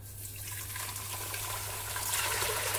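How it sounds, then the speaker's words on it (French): Water poured into a large 5-litre glass pot for a rooibos elixir, a steady gushing fill that grows slightly louder and brighter as the vessel fills, close and alone. "C'est le moment de rajouter l'eau."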